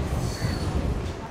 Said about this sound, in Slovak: Nejaký okolo idúci vlak.